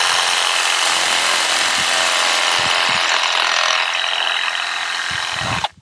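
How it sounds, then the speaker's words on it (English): A Milwaukee M12 Hackzall reciprocating saw with a brand new blade cuts steadily and loudly up close, a harsh buzzing, rasping drone lasting several seconds before cutting off abruptly. "there's all this just bouncing all over the place that goes on when you cut with a Sawzall"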